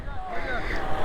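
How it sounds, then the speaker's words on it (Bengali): Sea water at Fraserganj beach makes a steady rushing wash of surf, loud and close, mixed with gusty wind buffeting the microphone. "জলের আওয়াজটা শোনো খালি"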